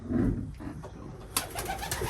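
Racing pigeons coo softly inside a loft, a low murmuring call close by, followed by a faint flutter or rustle near the end, with no voices present.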